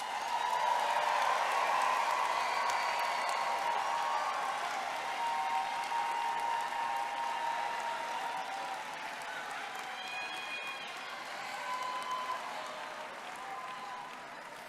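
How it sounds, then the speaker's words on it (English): A graduating class applauds itself at a white coat ceremony, sustained clapping filling the room, with a voice and some tonal sounds rising over it partway through. "Give yourselves a round of applause."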